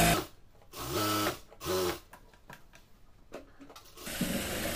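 A sewing machine stitches elastic into a salwar in two short whirring bursts of rapid rhythmic needle strokes, then quieter handling clicks and a softer third run, close and with no talking.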